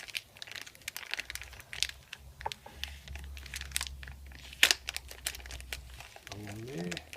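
Plastic cheese packaging being cut open with a blade, giving crinkling, crackling plastic sounds in short bursts, close and fairly quiet, over a low background hum with a brief sharper crunch partway through.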